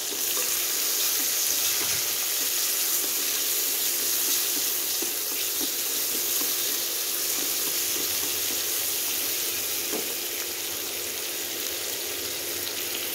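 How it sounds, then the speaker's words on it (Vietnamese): Shrimp and squid hit a hot pan with spring onion, sizzling in a loud, dense, unbroken hiss close to the microphone, with faint stirring ticks and no talk. "Bây giờ mình cho tôm với mực vào."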